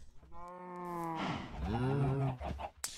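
Cattle in a chicken and cow farm inside a modded Minecraft-style video game give two drawn-out, loud harmonic moos, one after the other, with a brief click at the end and no talking.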